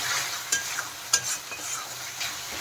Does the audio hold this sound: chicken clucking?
no